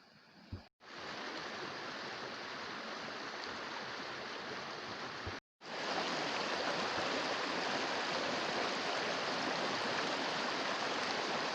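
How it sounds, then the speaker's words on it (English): Steady broadband rush of a stream and small waterfall in Oaken Clough, Peak District, heard from a short distance as continuous water noise with two brief dropouts and no talk. "Nice little waterfall down there."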